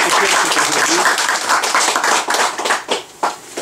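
An audience applauding with brisk, dense clapping that thins toward the end into a few scattered claps.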